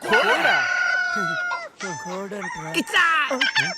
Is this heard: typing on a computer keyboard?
no